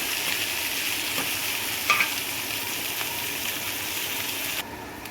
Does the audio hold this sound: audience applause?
no